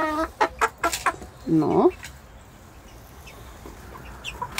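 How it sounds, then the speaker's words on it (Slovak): Young Leghorn hens, about fourteen weeks old, let out a quick run of close, loud clucks that fade into a quiet farmyard. Someone says a single short word. "Táto už robí pekne ako sliepka."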